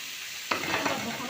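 Three onions hit about three large spoons of hot oil for a fish tray dish, bursting into a loud, steady sizzle after a half-second of quiet, with stirring crackles running underneath.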